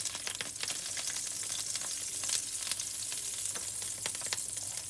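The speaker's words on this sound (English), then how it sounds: "we put 1 tablespoon of oil and we mix the butter around" Butter and oil frying in a pan while being stirred, a dense, steady crackling sizzle with quick spattering pops, close and even throughout.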